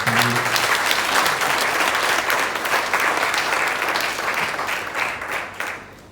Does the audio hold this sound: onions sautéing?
no